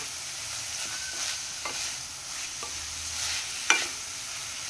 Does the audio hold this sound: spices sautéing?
yes